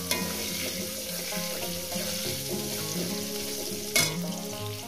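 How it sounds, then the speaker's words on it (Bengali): Potato pieces fry in oil for a fish curry with cauliflower, giving a steady close sizzle with soft stirring scrapes and one sharper clatter near the end; no one speaks. "আলুগুলো আমি ভেজে নেবো।"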